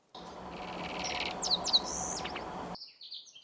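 A short, sweet bird song with a few slurred whistled notes and buzzy trills, moderately faint against a soft hiss of outdoor background.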